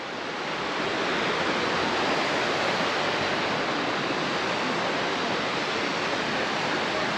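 A broad, constant roar of rushing water fills the scene, steady and unbroken, from a waterfall in Langkawi, Malaysia, heard from close by.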